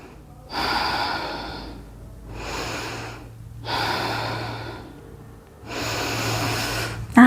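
Slow, deliberate breaths during a Pilates glute stretch, four long airy exhalations of about a second and a half each, separated by quiet pauses, close and moderately loud with no talking.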